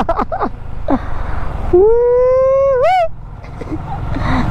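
A dog's single drawn-out howl rises, holds for about a second, then wavers and breaks off, framed by rustling and brief distant voices.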